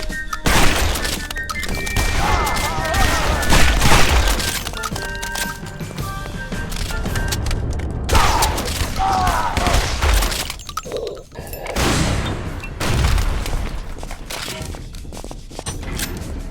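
Dense, sustained gunfire in the shooter game Guns, Gore and Cannoli on hard mode, with rapid bursts, loud booms and crashes stacked over game music, briefly easing around the middle before firing picks up again.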